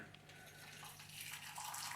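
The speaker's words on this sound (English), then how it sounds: "let me just pour this tea so that it can be brewing" Green tea with lemon being poured into a cup: a soft, continuous trickle of liquid that rises slightly in pitch as the cup fills, quiet and close.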